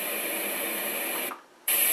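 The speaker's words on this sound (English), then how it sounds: "white noise 2" Steady broadband white noise from a sleep sound machine runs loud and even, drops to near silence for a moment, then resumes at the same level.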